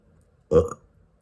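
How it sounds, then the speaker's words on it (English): A single short, close burp stands out sharply against near silence. "Confirmation burp."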